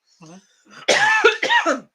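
A short, sharp cough bursts out close up, followed by a second rough cough after a brief murmur.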